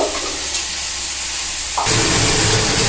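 Ground spice paste hits three teaspoons of hot mustard oil for soybean kofta, starting as a low hiss and then swelling suddenly into a loud, close, steady sizzle.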